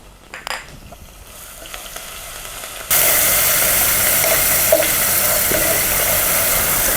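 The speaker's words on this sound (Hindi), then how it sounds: "मसाले को थोड़ा भूनेंगे।" Masala with crushed green chillies hits a hot pan for a pumpkin (kashi phal) sabzi and bursts into loud, steady sizzling frying. A few soft clatters come first, then the close, unbroken hiss runs to the end with no talk.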